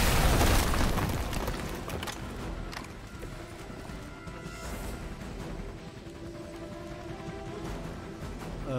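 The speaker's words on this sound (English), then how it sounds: "Your first problem was standing next to this explosion." A loud explosion in the Marvel's Midnight Suns video game opens with a heavy boom. Its rumbling, crackling debris tails off into a busy, lower wash of game sound.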